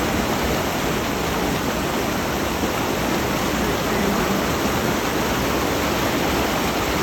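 A rain-swollen creek on farm property rushes steadily in a dense, even roar that fills the whole stretch, close and unbroken, with no voices.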